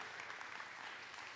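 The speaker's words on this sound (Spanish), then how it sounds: "Denle un aplauso a Cristo Jesús." Church congregation applauding during a Spanish-language sermon, a soft, distant wash of many hands clapping continuously for a brief moment, faint and even throughout.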